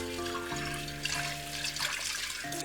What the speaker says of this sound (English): And we're going to rinse the pot.